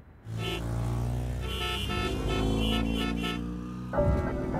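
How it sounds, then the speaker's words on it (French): Weekend traffic on a busy street, a steady car engine drone with a brief tonal horn-like toot and a louder burst near the end; no voices. "Le chant des klaxons, les week-ends chargés."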